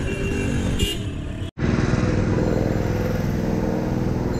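Loud, busy street traffic in Bangladesh with engines droning and horns tooting, broken by a brief cut to near silence before the din resumes.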